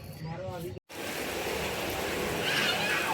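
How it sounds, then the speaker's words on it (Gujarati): Heavy rain pours down steadily during a monsoon downpour, a dense, continuous hiss that fills the scene, with a brief voice and a short cut of silence near the start. "અમારે વરસાદ આવી ગયો પાછો વળીને આવી ગયો"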